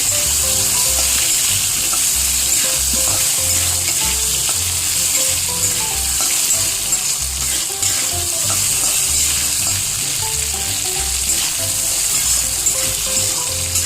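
Vegetables with potato frying lightly in oil with spices and turmeric, a loud continuous close sizzle with occasional stirring scrapes throughout, no talking.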